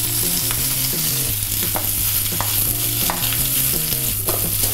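Sliced calabresa sausage frying in a pan gives off a loud, continuous sizzle, with a steady melody of background music running underneath.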